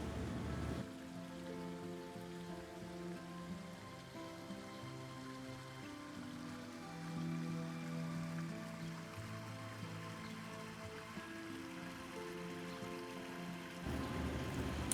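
A backyard pond waterfall splashes continuously beside a patio, a soft, steady rush of falling water heard faintly and evenly throughout.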